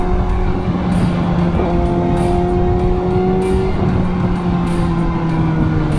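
A Kawasaki ZX-10R superbike accelerating hard, its engine note rising steadily and loud and close throughout, with a constant roar of wind and road noise.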